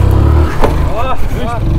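A motorcycle engine revs hard while the rider pulls a wheelie on a large open ground in Kupwara, a loud, close, steady roar with rising pitch swells, with a voice talking over it.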